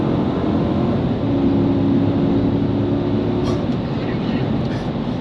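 A Chevrolet Silverado with the 6.2 V8 pulls away at full throttle, its engine noise rising into a strained drone with a steady low exhaust roar. Talk may be mixed in underneath.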